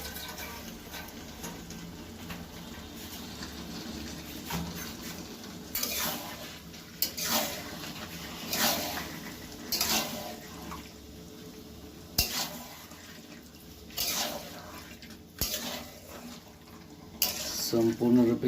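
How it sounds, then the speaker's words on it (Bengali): Chicken pieces being stirred and fried in spice masala for a Bengali chicken kosha, with scraping spoon strokes against the pan at irregular intervals over a soft steady sizzle, some clinks near the end. "এরপরে চিকেন ডালো, এই চিকেনটাকে ভালো করে কষতে হবে।"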